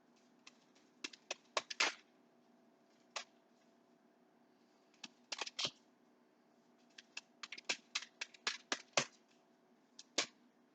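Quick bursts of crisp riffling and tapping of playing cards being shuffled, close and quiet, coming in clusters with short pauses.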